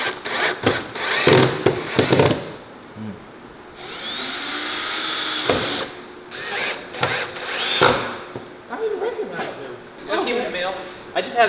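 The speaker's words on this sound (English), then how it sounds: "put a couple of screws through" A power drill drives screws into widebody kit panels on a Mercedes 190E, with short whirring bursts and one long rising whine, while a person talks between the runs.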